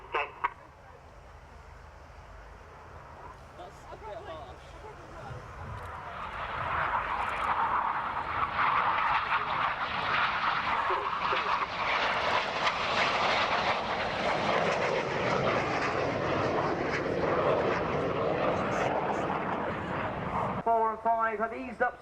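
Red Arrows jets flying a display at an air tattoo: a broad jet roar builds after a quiet start, grows loud and sustained as the aircraft pass, then drops off abruptly near the end, with commentary running over it.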